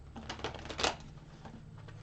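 Tarot cards being shuffled, a quick faint run of soft flapping clicks with one brighter burst in the middle, over a low background hum.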